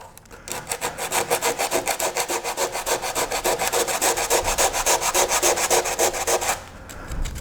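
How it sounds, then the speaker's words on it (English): Bondo filler on a racing shell hole repair is sanded with 60 grit sandpaper in fast, even back-and-forth strokes, a loud rasping rhythm that runs for about six seconds and then stops. "Next step is back with the 60 grit sandpaper. Same sandpaper. We want to remove most of the Bondo."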